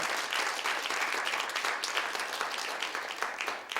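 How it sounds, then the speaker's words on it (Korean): An audience at a Korean Christian talk event breaks into applause for the speaker, a loud, dense burst of many hands clapping right away that holds strongly before gradually thinning toward the end. "사실 이럴 때는 박수 좀 쳐주셔도 좋습니다"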